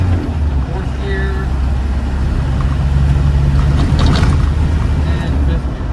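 A 1993 Land Rover Defender 90 with a 200Tdi diesel pulls along in fourth gear, a loud, steady low drone from inside the cab with road rumble and faint rattles.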